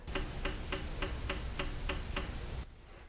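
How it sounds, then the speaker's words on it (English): A car's number 2 fuel injector fires on test, giving about nine quick, evenly spaced clicking ticks at close range. A steady hum sits underneath, and the ticking stops abruptly. "and now it's going to fire the injector."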